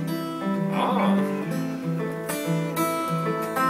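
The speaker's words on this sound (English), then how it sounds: "That's called fingerstyle guitar." An acoustic guitar is played fingerstyle, with individually plucked strings ringing into overlapping notes in a short, clear melodic phrase, close and unaccompanied.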